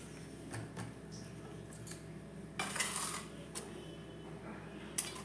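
Chopped green chillies are tipped onto a plate, with scattered light clinks and scrapes of utensils against dishware and one louder rattling burst midway.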